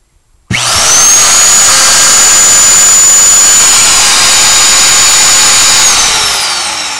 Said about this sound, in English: I'm going to demonstrate with this drill now just to show you that the power is no problem